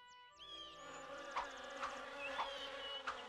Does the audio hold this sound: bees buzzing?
yes